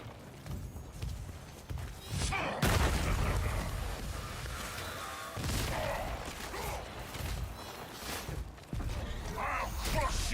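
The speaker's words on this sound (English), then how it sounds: "these explosions are the worst." Heavy explosions in the samurai video game Ghost of Yotei Legends, loud booming bursts around 2.6 and 5.4 seconds over continuous rumbling combat noise, with a player talking.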